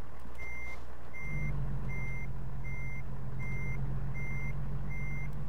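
A heavy truck in American Truck Simulator reverses, its backup alarm beeping in a steady, evenly spaced series over a loud, constant low engine rumble that swells after the first second.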